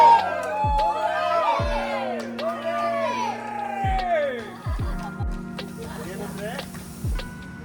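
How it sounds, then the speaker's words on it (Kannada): A film crew behind the scenes of the Mynaa serial cheers and claps at a 200th-episode surprise for their director. Loud overlapping whoops and excited shouting mix with sharp bursts of clapping close by. "ಚಪ್ಪಾಳೆ ಹಾಕ್ಬಿಟ್ಟಣ ಎಲ್ಲರೂ"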